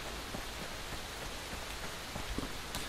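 Steady rain falls in the video game Fear the Wolves, a broad even hiss with faint scattered drops, constant and moderately loud with no talk over it.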